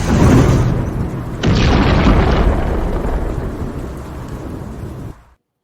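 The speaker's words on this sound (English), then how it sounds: "I need more explosions than that one." A loud, rumbling boom sound effect on a TV show, with a sharp second blast about a second and a half in, then a long roaring decay that cuts off abruptly.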